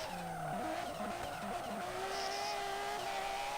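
A drift car at a drift battle event sliding toward a roundabout, tires squealing in long sustained screeches over a wailing engine, loud and continuous with no talk.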